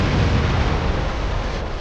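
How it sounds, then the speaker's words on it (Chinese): A massive nuclear bomb explosion in a disaster film, heard as a loud, dense, continuous roaring blast with heavy low rumble, filling the whole short moment without any voices. "随着一阵猛烈的爆炸"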